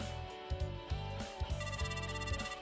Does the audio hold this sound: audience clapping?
no